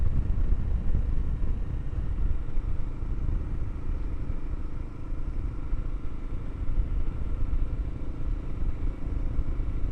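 A KLR650 motorcycle cruises along a road on a sunny Arizona day. Its engine gives a steady low rumble mixed with rushing wind noise, heard up close from the rider's position with no talk.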